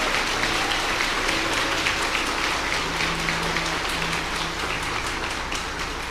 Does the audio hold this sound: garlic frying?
no